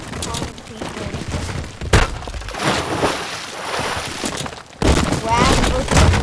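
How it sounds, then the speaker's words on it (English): Concrete slamming into concrete in the video game Teardown, sharp cracking impacts and crumbling debris rattling in bursts, loud and close, with a break partway through. "Concrete versus concrete."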